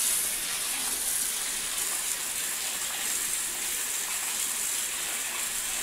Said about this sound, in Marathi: हे आपण ह्याला स्वच्छ आधी धुवून घेऊया